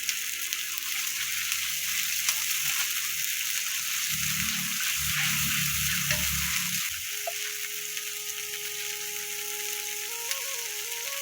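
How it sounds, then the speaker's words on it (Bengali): Spices with cumin and bay leaves sizzling in a pan of soybean oil with a splash of water, a steady close frying hiss with intermittent scraping and stirring rumbles from a utensil against the pan. "মানে জল দিয়ে দিলাম, মশলাটা ভালো করে ভাজা ভাজা হবে।"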